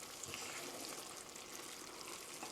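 Thick mapo tofu sauce for a rice bowl simmering in a pan, thickened with starch, giving a steady dense bubbling sizzle that stays close and even throughout, with no talk.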